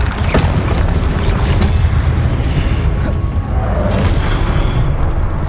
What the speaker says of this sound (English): Oh, I destroyed the whole pillar.